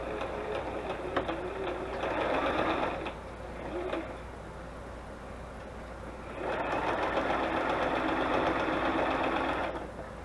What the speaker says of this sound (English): So let's go ahead and sew all the way around this one. Just a straight stitch.